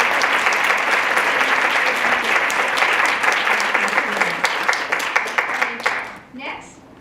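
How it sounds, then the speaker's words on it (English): Audience applause at a lecture series event, a loud sustained burst of clapping that thins into scattered claps and fades out over its final seconds. "So let's give them a round of applause."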